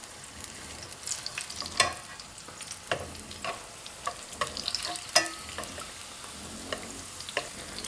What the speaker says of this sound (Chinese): 全程中小火慢炸，防止一下炸糊